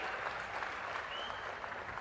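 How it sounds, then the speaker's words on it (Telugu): Clapping from the audience at a political rally in Gudivada, a steady, moderately faint wash of many hands. "గట్టిగా చప్పట్లు కొట్టి అభినందించండి"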